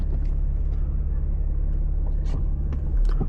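Car cruising on a relaxed Sunday drive, a steady low engine and road rumble heard from inside the cabin with a few faint clicks and knocks.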